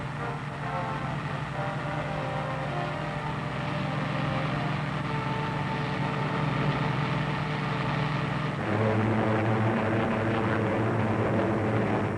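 Allied warplanes fly over during Second World War raids before the Normandy invasion, producing a continuous heavy engine drone that holds steady and loud throughout.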